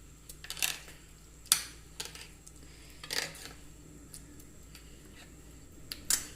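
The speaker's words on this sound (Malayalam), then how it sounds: "അതും കൂടെ ഒന്ന് ഇളക്കി യോജിപ്പിക്കാം." A spoon knocks now and then against a bowl of banana cake batter as fried cashews are stirred in, giving faint clinks at irregular intervals over a quiet background.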